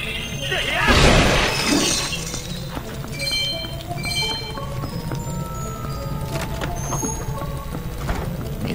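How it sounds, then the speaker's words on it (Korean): A breakable object shatters in Zelda: Twilight Princess, in the Snowpeak Ruins: a loud crash and burst of fragments near the start, followed by a quieter game soundscape with faint tinkling tones and soft background music. "얘도 깨지나?"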